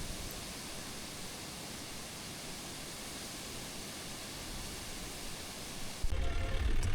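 Steady, broadband rushing of a waterfall at Kanthalloor in Kerala, loud and continuous throughout, with a brief low thump near the end.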